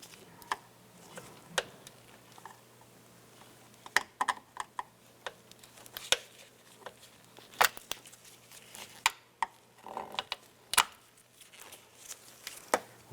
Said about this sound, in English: pop these retainers out.